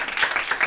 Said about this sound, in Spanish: Ahí, un aplauso para Miguel, ¿no?